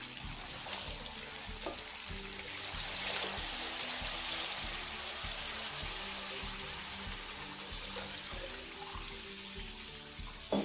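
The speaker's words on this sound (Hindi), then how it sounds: "2 लीटर पानी डालेंगे इसमें।" About two litres of water pour steadily into a pot of browned meat and rice for chicken pulao, a continuous rushing splash lasting throughout, with faint clinks underneath.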